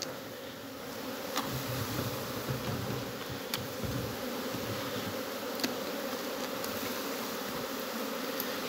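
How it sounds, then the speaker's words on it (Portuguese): Honeybees at an apiary during a honey harvest hum in a dense, steady buzz, with occasional louder passes of individual bees close by. "Eu tô estranhando essas abelhas aqui, que elas estão tão bobas hoje"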